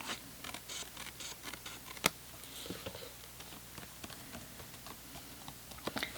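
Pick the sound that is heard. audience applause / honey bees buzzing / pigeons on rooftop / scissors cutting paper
scissors cutting paper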